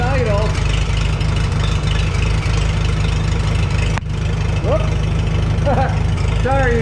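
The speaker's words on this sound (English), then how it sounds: "We'll let this run, we'll have to check it for leaks too. There's our oil pressure at idle." A Farmall H tractor engine idles steadily up close with a constant low rhythmic chug, while someone talks over it.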